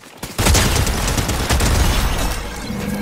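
Weapon fire in Fortnite: a brief lead-in, then a loud, dense, continuous barrage of shots that holds steady to the end.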